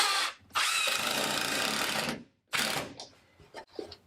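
A power drill drives a screw through a board into a wall stud, two sustained loud whirring bursts separated by a brief pause, then trailing off into quieter intermittent clicks and handling noise.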